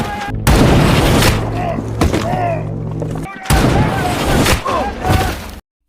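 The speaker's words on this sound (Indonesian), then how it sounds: "pasukan tewas satu persatu ditembak sniper misterius dari arah semak belukar" Gunfire from a hidden sniper firing out of dense bushes at soldiers, heavy booming shots and thuds striking in bursts across the scene, loud and close, with dramatic cinematic effects.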